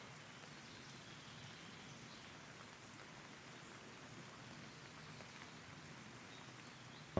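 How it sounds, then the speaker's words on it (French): Steady rain patters continuously on surfaces during a hike in the Vosges mountains, an even, soft hiss of many drops with no voices. "il pleut toujours"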